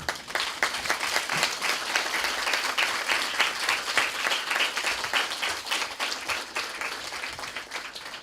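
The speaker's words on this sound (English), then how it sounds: "May I request a standing ovation for Ms. Meera? Please." Sustained applause from a large audience giving a standing ovation at a college event, steady dense clapping that carries on evenly throughout without talk.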